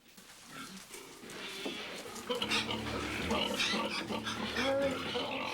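A pig grunts and oinks amid livestock noise, mixed with a steady busy background and overlapping voices through the clip.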